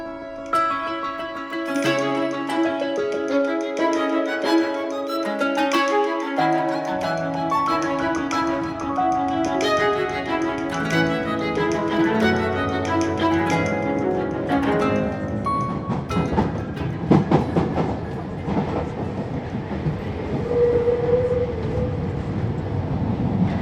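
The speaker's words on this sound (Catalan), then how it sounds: "Som en un dels vagons del metro de París." Inside a moving Paris metro carriage: steady rolling rumble, clicking wheels and squealing metallic tones rising and falling over a continuous background drone.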